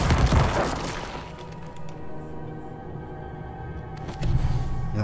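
Corpse explosion spells in the Diablo 4 video game, played as a hardcore necromancer, go off as a burst of booming, cracking blasts at the start and again near the end, with quieter rattling debris in between.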